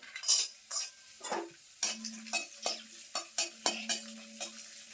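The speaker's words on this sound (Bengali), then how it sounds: "ওই তেলের ভিতরে আমি নিয়েছি কিছু কাজু বাদাম কিছু কিশমিশ তো এটাও কিন্তু তেলের ভিতরে হালকা করে ভেজে নেবো" Cashews and raisins frying lightly in oil for poha pulao, a faint sizzle broken by repeated metal spoon clinks and stirring scrapes against the pan in an uneven rhythm.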